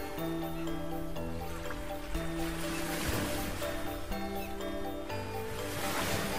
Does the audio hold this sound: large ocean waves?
yes